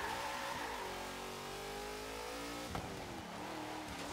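A 1972 Chevrolet Nova with an upgraded V8, driven in an autocross racing video game, revs steadily with rising and falling harmonic engine tones throughout, one brief sharp transient midway, no talk over it.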